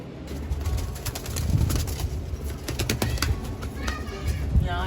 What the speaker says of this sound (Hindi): यहाँ लड़ाई झगड़ा चल रहा है घर के अंदर इनके कबूतरों के।